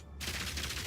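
Grenade skill fired from a lightning crossbow in Path of Exile 2, a sudden onset of rapid crackling bursts that stays busy and hissy for the rest of the second, fairly faint overall.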